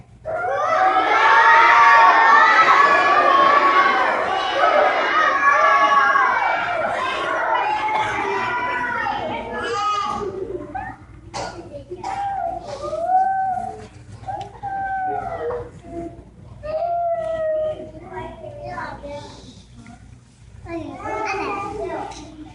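A group of preschool children screech, howl and roar in imitation of animals on Noah's Ark during a school play. The noise starts as a loud chorus of overlapping cries, then breaks into scattered individual shrieks and calls.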